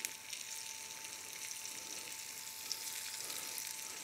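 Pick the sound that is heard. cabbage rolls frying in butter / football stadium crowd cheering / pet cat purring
cabbage rolls frying in butter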